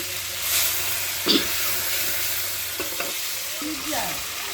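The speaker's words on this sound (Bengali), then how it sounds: "তারপর দিয়ে দিলাম পরিমাণ মতো তেল এখন রসুন আর পেঁয়াজ কুচি দিয়ে দিলাম" Garlic and chopped onion fry in oil in a wok for a pumpkin dish, giving a steady close sizzle with a few brief stirring scrapes and clinks over it, no voices.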